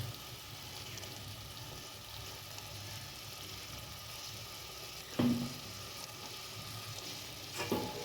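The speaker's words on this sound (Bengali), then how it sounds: "এবার দেবো ওপর থেকে একটু সর্ষের তেল, কাঁচা সর্ষের তেল" Cauliflower frying in a pan on a low flame with raw mustard oil added, a soft steady sizzle with a couple of brief clinks, quiet and close.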